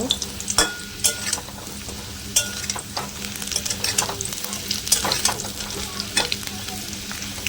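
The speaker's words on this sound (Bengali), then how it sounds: "আর একটু ভাজা হোক, হলেই নামিয়ে নেব এখন" Potatoes frying in hot oil in a kadai while cooking a Bengali rui fish recipe, a steady close sizzle with repeated sharp spatters and stirring clinks throughout, no talking.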